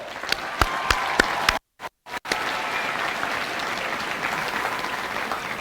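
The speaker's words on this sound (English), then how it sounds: "So y'all please give the Commissioner of Agriculture a round of applause." An audience at an FFA gathering applauds the Commissioner of Agriculture with steady, dense clapping and a few sharper claps standing out, cut by two brief silent dropouts before the applause resumes and carries on.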